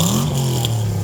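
A widebody Porsche 911 swapped to a modified all-aluminum 5.7-liter LS1 V8 revs briefly, a loud, close engine note that climbs and then eases back over about a second.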